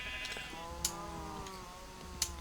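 A faint, wavering sheep bleat from Minecraft's FTB modpack farm, one drawn-out harmonic call with a couple of soft clicks around it, quiet and alone.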